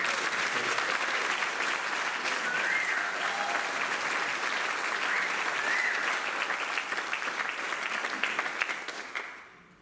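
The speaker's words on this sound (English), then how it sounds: "Give them a round of applause." Audience applause for a band, dense and steady throughout as a full crowd claps together, then dying away in the final second.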